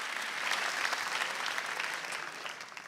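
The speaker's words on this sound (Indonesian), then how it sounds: "tepuk tangan dong buat kalian semua." Audience applause at an Indonesian stand-up comedy show fills the room, a steady dense clatter of many hands that holds level and eases slightly toward the end, with no talking over it.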